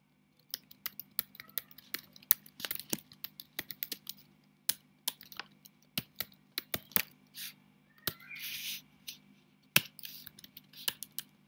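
Sparse, quiet computer keyboard typing while code is written, with irregular individual key taps and short clusters over a faint steady low hum, and no talking.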